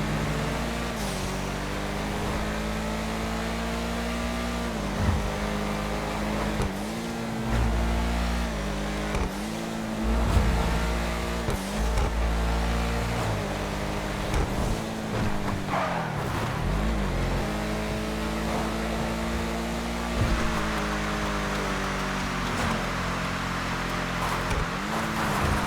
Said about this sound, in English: this footage comes from a fully upgraded with turbo tuning Sentinel GTS